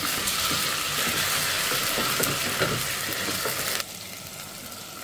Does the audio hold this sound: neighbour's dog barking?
no